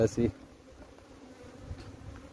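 A swarm of Asian honey bees (Apis cerana) hums in a steady, low buzz close by, after a short burst of a voice at the start.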